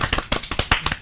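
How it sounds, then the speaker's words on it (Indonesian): A small group claps in a quick, uneven burst of about eight sharp claps at a film cast press appearance, brief and close. "Tepuk tangan lu dong."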